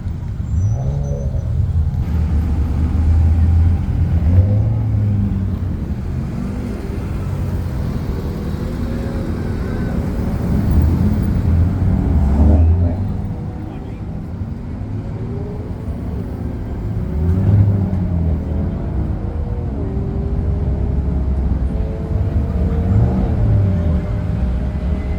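Busy road traffic on a sunny Saturday, many cars, makes a steady low rumble with engines swelling and fading as vehicles move, while people talk intermittently over it.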